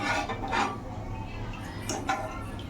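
Homemade rice-powder baby cereal is stirred in a pot on a gas stove, with soft scraping and light clinks of a spoon against the pot over a low steady background hum.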